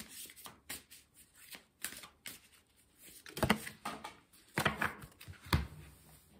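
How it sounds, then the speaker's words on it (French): Cards from a dragon oracle deck are handled and drawn, giving soft, close papery riffles and flicks in uneven little bursts, quiet overall. "Je vais prendre une carte des dragons"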